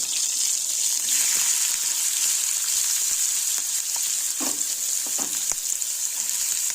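Two large onions sizzle and fry in a pan for Mumbai street-style masala pav, a steady close hiss with occasional stirring clicks and scrapes.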